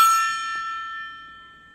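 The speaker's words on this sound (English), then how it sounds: "And the gong is for the hater." A single gong struck once, ringing with a bright metallic shimmer that decays steadily over about two seconds, loud and alone.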